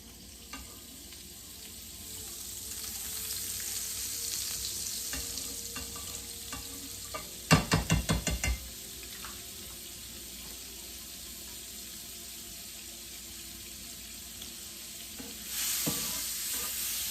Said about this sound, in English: We add in olive oil, some butter.